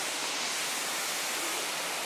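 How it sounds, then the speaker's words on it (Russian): Steady broadband rush of Kirindi Ella Waterfall in Sri Lanka, heard from among large boulders near the falls during a low-water dry spell, a constant hiss-like roar with no talk over it. "И вот водопад."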